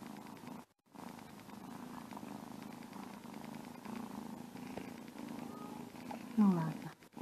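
A contented domestic cat purrs close by in a steady low rumble, with a brief break early on and soft speech over it.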